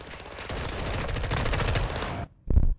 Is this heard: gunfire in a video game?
yes